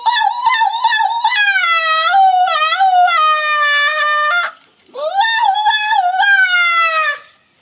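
A man mimics a jackal's call with his voice: two long, wavering howls that rise and bend in pitch, loud and close, separated by a brief breath.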